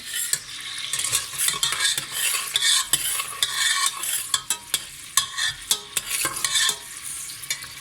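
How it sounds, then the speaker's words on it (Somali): Onions fry in oil in a pot and sizzle steadily, while a utensil scrapes and clinks against the pot in repeated irregular strokes, close and clear with no talk. "basashii iyo saliidda isku karsamay"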